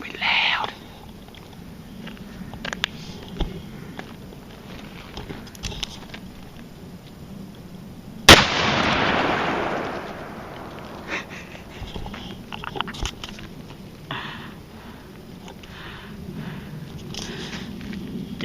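A Smith & Wesson 500 revolver is fired at a truck outdoors, a single sharp, loud shot with a short reverberant tail standing out midway through faint background murmur and rustling.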